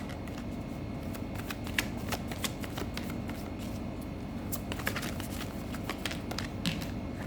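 Tarot cards shuffled by hand in a steady run of crisp riffling and sliding flicks, close and fairly quiet, with no talking.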